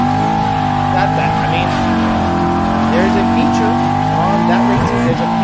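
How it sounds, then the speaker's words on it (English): A truck does a burnout, its engine roaring and revving loudly while the tires squeal and skid continuously, with a voice talking over the din. "He ghost rides the burnout."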